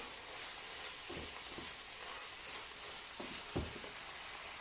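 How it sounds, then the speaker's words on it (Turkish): Chopped onions fry in a pan for a Turkish minced-meat taco filling, giving a soft steady sizzle with a few light stirring scrapes and clinks. "Şimdi soğanım kavruldu."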